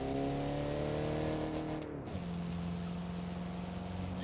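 Engine of a 1946 classic car in a video game, revving hard under acceleration with a rising whine, a brief gear-change dip, then a steady high drone, loud and close with no voices.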